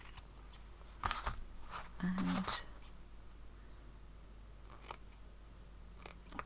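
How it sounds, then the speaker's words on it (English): Scissors snipping through slow-stitched fabric patchwork to trim away bulk, giving several distinct close, crisp cuts spaced irregularly, alongside a soft voice. "I will cut across here, reduce that bulk a little bit,"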